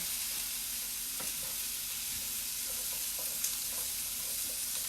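Green beans frying on super high heat in a flat pan, a steady bright sizzle with occasional soft stirring scrapes and clicks as they are moved around.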